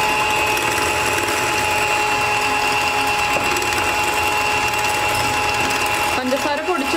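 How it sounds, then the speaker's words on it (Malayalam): Eggs and sugar being beaten together for a vanilla sponge cake, most likely with an electric mixer, which gives a steady, continuous mechanical whir at close range that runs the whole time, with a brief change near the end. "കുറച്ച് സമയം നമ്മളൊന്ന് ബീറ്റ് ചെയ്തെടുക്കണം"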